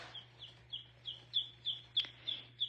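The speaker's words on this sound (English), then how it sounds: "See, now they just chirp up and walk around." Baby chicks about one to three days old chirping in a brooder, a steady series of short, high peeps repeating every fraction of a second over a low background hum.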